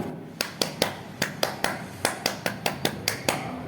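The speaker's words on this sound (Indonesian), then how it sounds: "Bapak Ibu ingin tahu tepuk tangannya seperti apa?" Rhythmic hand clapping demonstrating a signal clap, about a dozen sharp, evenly paced claps close up, played alone with no talk.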